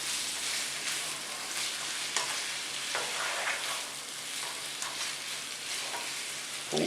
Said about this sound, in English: let's stir this around a little bit here